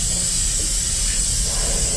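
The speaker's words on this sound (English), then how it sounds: "I applied some air to the Crackle." Compressed air blows onto freshly sprayed crackle paint on an Epiphone Les Paul Special II guitar, a loud, steady, continuous hiss that holds unchanged throughout.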